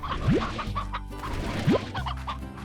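Briar hen chickens from a slime-ranching video game cluck in a soft, steady stream near at hand, broken by two quick rising chirps.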